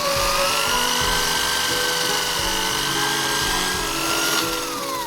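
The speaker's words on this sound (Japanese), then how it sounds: "続いて中央部分をホールソーでくり抜きます。" A hole saw cuts out the center of an empty aluminum can for a DIY alcohol stove, giving a steady, close grinding whine with bright metallic scraping that runs for about five seconds without talk.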